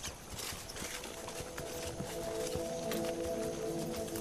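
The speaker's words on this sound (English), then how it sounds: "horses can cross it really easily" Horses move through shallow marsh water, hooves clip-clopping and splashing in a steady, uneven stream at moderate distance, with a faint whinny-like tone and wild ambience behind, no talk.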